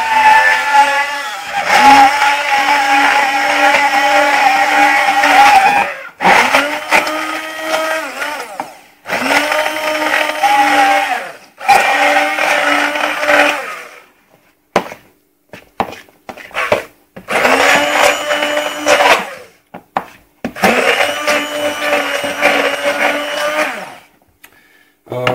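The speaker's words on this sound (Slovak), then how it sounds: "Zoberiem teda ponorný mixér." Immersion blender whirring through raw eggs mixed with protein powder, several loud bursts of a few seconds each separated by short pauses, with a steady motor whine that shifts slightly in pitch as it blends.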